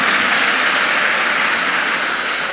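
Islamic boarding school students at a gathering give a round of steady, dense clapping that fills the space evenly and holds at a constant loud level throughout.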